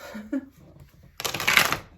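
Brief pause and small sounds, then a quick burst of tarot cards being shuffled, riffling rapidly for under a second, close by.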